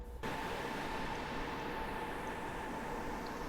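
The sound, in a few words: AC4400CW locomotive in video game Train Simulator 2020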